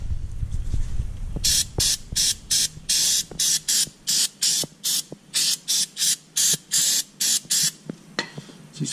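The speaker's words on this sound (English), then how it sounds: "So you spray that on there," Carburetor and intake cleaner sprayed from an aerosol can onto a 4.3-liter Chevrolet S10 engine during an oil change, heard as a close, loud run of about fourteen short rhythmic hissing bursts with no talk.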